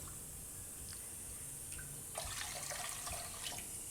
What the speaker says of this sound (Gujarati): તો આમાં આપણે 1 કપ પાણી બીજું નાખીશું